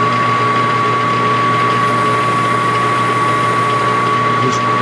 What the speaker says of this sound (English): we're just gonna put a chamfer on all three of the corners